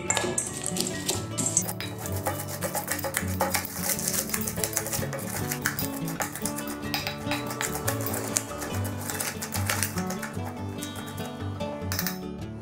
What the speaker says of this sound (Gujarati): ચેવડો નાખીને આ બધી જ વસ્તુને એકદમ વ્યવસ્થિત મિક્સ કરી દેવી